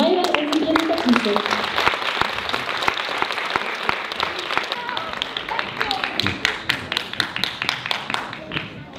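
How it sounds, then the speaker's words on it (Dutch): Loud audience applause at a hip hop championship, dense clapping from a near crowd that gradually thins into scattered individual claps toward the end. "Dus graag een applaus voor Maiwen en de Vriendelijke."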